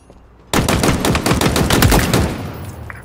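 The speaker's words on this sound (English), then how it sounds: "Headshot these targets once you've dropped their shields." Rapid automatic gunfire in the Halo Infinite multiplayer tutorial strikes suddenly and keeps up a dense, loud burst of evenly spaced shots for over two seconds against targets.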